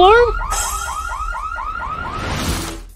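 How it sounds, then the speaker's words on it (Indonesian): A loud, close alarm rises and falls in a rapid, repeating warble of about a dozen quick swoops, alone and without voices, then cuts off into noise. "Alarm?"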